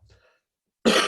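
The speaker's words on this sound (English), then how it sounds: "I apologise for all the coughing." A single loud, harsh cough or throat-clear bursts out near the end, following a stretch of faint low murmuring and then silence, with a chess web show host nearby.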